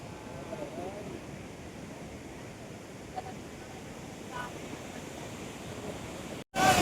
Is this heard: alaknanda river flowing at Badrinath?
yes